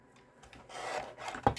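A paper trimmer slices through a strip of cardstock with a short, quiet scraping rasp that ends in a brief sharp snap.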